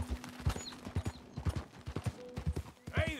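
Horse hooves clip-clop at a steady gallop in Red Dead Redemption 2, a rhythmic run of close, fairly loud thuds across the whole stretch, with a brief whinny-like tone near the end.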